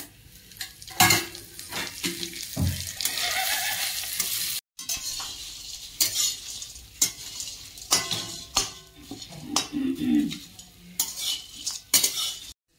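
Khichdi masala spices, including nutmeg, are dry-roasted in a pan, with a metal spoon scraping and clattering against it over a soft sizzle. The scrapes come in irregular bursts, close by, with no speech.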